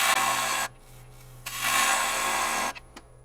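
A sharp half-inch bowl gouge cuts into a figured English walnut bowl spinning on a lathe, two loud, close bursts of rough shearing over a low motor hum.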